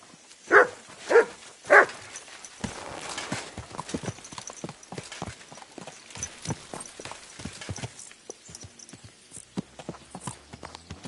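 Horse hooves clip-clopping in the video game Kingdom Come: Deliverance 2, opening with three loud snorting bursts before a steady stream of close, crisp hoof strikes on hard ground with faint background sounds.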